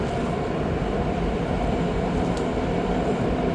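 A train rumbles steadily past, a continuous loud rolling roar with no clear rhythm, heard from aboard the REM near Via Rail trains hauled by Siemens Charger locomotives.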